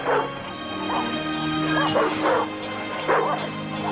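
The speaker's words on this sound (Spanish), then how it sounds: "De repente, sin ninguna explicación, los perros del vecindario empiezan a perseguir a Mac." Neighbourhood dogs barking in a film as they chase someone, several yips, barks and whimpers overlapping close by over a busy background soundtrack.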